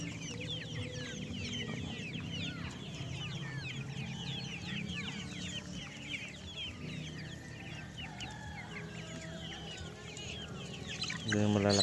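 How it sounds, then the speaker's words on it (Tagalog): Chickens and chicks cluck and peep close by in a farmyard, a busy, continuous chatter of calls at moderate volume. "manok."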